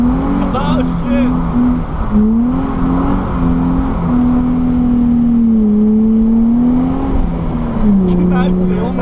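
A Nissan 350Z with a welded differential drifts while its engine revs, a loud sustained drone that rises and falls steadily throughout, with people talking over it.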